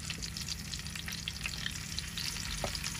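Tilapia fish fries in hot oil in a pan, a close, continuous crackling sizzle with dense popping spatter and a brief scrape, no talking.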